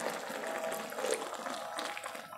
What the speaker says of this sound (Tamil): அதனால் கொஞ்சம் சுடு தண்ணி ஊற்றுவோம்.